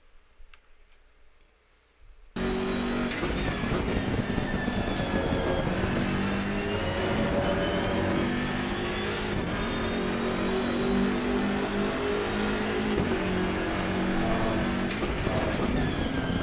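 BMW M6 GT3 race car engine at Misano in Assetto Corsa Competizione, a loud continuous revving drone that kicks in abruptly after a few quiet clicks and holds steady with shifting pitch.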